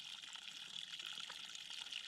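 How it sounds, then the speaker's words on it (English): Water trickles steadily at Cheesewell Spring, a hillside spring in the Scottish Borders, a faint, continuous, hissy flow with no voices. "We have reached Cheesewell Spring."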